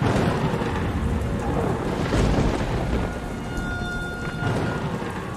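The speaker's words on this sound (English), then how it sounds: "It's a dark and stormy afternoon." A Halloween show's thunderstorm sound effect: loud, steady rain roars throughout while deep rumbles of thunder swell and fade, with no talking.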